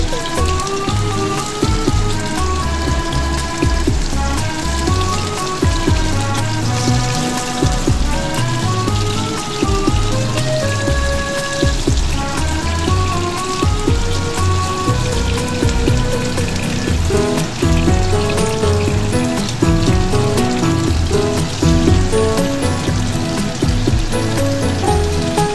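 Flour-coated fish fries in a pan, giving a loud, continuous crackling sizzle that holds steady throughout while music plays underneath.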